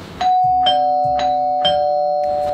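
A doorbell chimes in a house during a Thai comedy sketch, sounding a clear two-tone ding-dong twice in a row, bright and close, with low rumbling room sound beneath.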